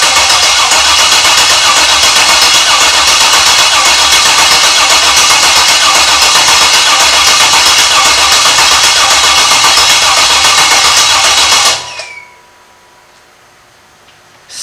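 GMT400 truck with an LS swap engine cranking over with fuel and ignition disconnected, a loud continuous starter churn for about twelve seconds that stops abruptly into near silence.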